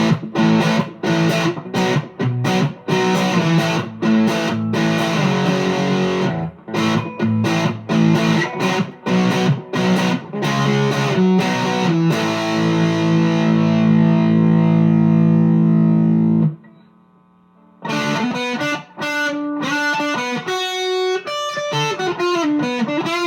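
Gibson Les Paul on its bridge humbucker, volumes on 9 and tones on 10, driven through a JHS Violet overdrive pedal at high gain: loud distorted chords and riffs ringing out, with a sustained chord held before a short pause and more playing.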